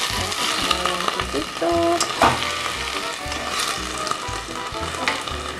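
Potatoes and mushrooms fry in a pan for a Japanese-style curry, giving a steady close sizzle with a few stirring scrapes and clatters and no talk.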